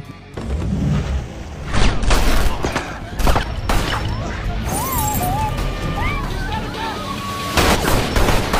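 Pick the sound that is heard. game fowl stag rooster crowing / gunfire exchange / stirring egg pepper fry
gunfire exchange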